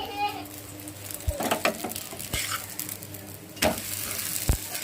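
Dosa batter sizzling on a hot pan, a steady hiss broken by sharp clicks and scrapes of a utensil against the pan at close range.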